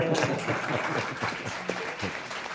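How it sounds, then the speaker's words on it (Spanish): Studio audience applauding at a Spanish comedy talk show, a steady wash of clapping that fills the whole stretch, with faint voices and laughter mixed into it. "Un aplauso para Darío"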